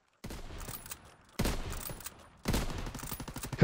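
Three bursts of automatic fire from a WWII-era submachine gun in a video game firing range ring out in close, loud succession, each with a sharp snap and short tail.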